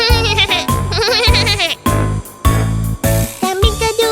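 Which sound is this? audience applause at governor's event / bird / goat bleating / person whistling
goat bleating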